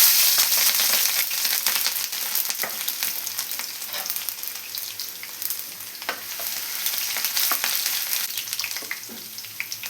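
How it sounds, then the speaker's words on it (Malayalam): Garlic and ginger dropped into hot oil for hotel-style shredded chicken crackle and sizzle loudly and steadily, with dense popping spatters and a few sharper snaps throughout, no voices. "ഇനി നമുക്ക് ഇതേ ഓയിലിലോട്ട് തന്നെ അല്പം വെളുത്തുള്ളി ഇഞ്ചിയും കൂടെ ചേർത്ത് കൊടുക്കണം"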